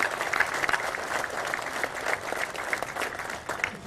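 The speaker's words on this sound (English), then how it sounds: "let's give them a tremendous round of applause" Audience applause at a groundbreaking ceremony for a Milwaukee high-rise, brisk continuous clapping from a gathered crowd for a few seconds.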